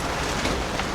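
Steady rain falls in a dense, even patter, a continuous close hiss with no voices.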